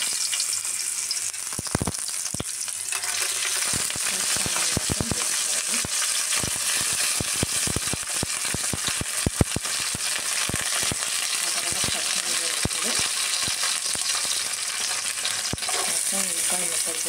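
Mango ginger pieces fry in hot oil with a dense, continuous close sizzle, peppered with sharp crackles and pops and occasional stirring clicks throughout.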